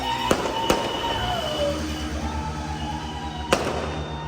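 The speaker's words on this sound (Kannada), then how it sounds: "ಎಷ್ಟು ಪಟಾಕಿ ಸೌಂಡ್ ಕೇಳಿಸ್ತಿದೆ ಗೊತ್ತಾ?" Firecrackers and fireworks burst during a nighttime city celebration in Bengaluru after a trophy win, with three sharp, loud cracks standing out over a continuous rumble of distant explosions and crowd noise.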